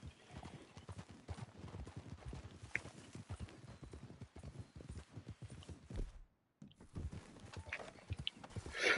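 Horse hooves clip-clop in a PS4 video game, a steady run of close, rhythmic hoofbeats with brief rustling, breaking off for a moment of silence before the trotting resumes.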